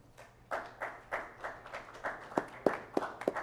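A crowd claps at a firefighter recruit graduation ceremony for the Union Fire Department, scattered hand claps building into a rhythmic burst of sharp, close applause with no voices over it.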